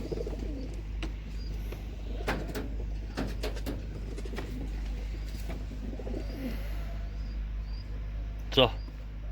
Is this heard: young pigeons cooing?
yes